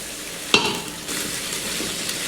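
Ivy gourd pieces are stirred in hot oil, with a sharp metallic clink of the spoon against the pan, then a steady sizzle and soft scraping.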